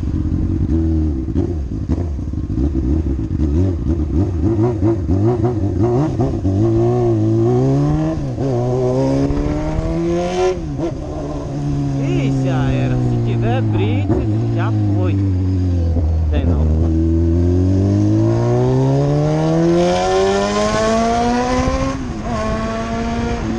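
Honda CBR600F motorcycle with a straight pipe revving and accelerating on the road, a loud continuous engine wail rising and falling through the gears, with rider speech over it.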